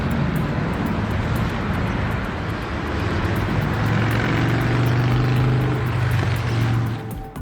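Piston engines of a Lockheed Constellation airliner running steadily, a loud continuous droning roar with a deep propeller hum, close by and without pause.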